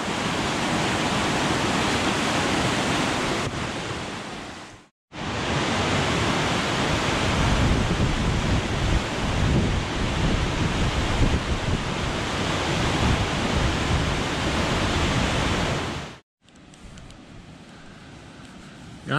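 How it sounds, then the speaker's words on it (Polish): A mountain river rushes hard during rainfall, a loud dense roar of churning water that holds steady, broken by brief cuts, with no voices. "Tak wygląda rzeka w górach w czasie opadów deszczu."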